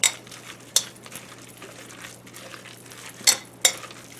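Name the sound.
two forks mixing shredded chicken in a crockpot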